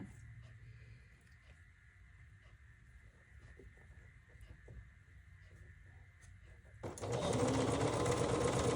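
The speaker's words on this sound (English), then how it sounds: "I'm going to go ahead and sew these two together while I'm at it" A sewing machine stitches quilt block pieces together, a faint steady whir through most of the clip that swells into a loud, dense run near the end.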